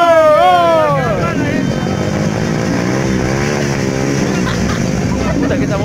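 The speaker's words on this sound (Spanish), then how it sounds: "Que esta moto parece fuerte." A motorcycle engine runs loud and close with a rough, steady drone, an opening rev sweeping up and down, while voices chatter over it throughout.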